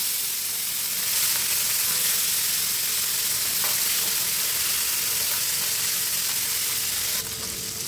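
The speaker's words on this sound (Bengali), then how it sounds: "মেখে রাখা মাছগুলো লাল করে ভেজে" Fish coated in turmeric, chili and salt frying in a pan, a loud steady sizzle and crackle of hot oil continuing throughout with no talk.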